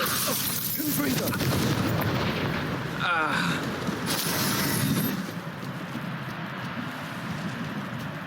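Confringo blasting spell explosions in Hogwarts Legacy, a dense run of booming, crackling blasts with a swept whoosh near the middle, loud and continuous for the first five seconds before easing to a lower rumble.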